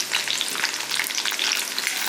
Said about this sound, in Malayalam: ഇഞ്ചി ഇട്ടിട്ടുണ്ട്. നമുക്കൊന്ന് വഴറ്റി കൊടുക്കാം.